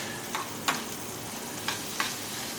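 Roasted red peppers being stirred into simmering rice, a continuous low sizzle with a few light scraping and clinking strokes of a spoon against the pan, close and alone without talk.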